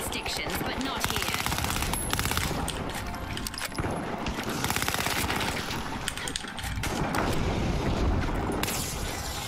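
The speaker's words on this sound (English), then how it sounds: "They have a fucking turret." Rapid turret gunfire from the arena shooter The Finals, a dense continuous stream of shots layered with game effects and a voice talking over it throughout.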